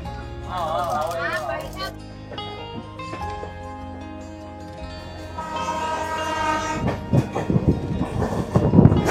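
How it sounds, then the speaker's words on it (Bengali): A train horn sounds, then engine rumble and rhythmic wheel clatter build as the train pulls away from Howrah station, with voices mixed in. "আমাদের ট্রেন হাওড়া স্টেশন থেকে এই জাস্ট ছেড়ে বেরিয়ে পড়লো"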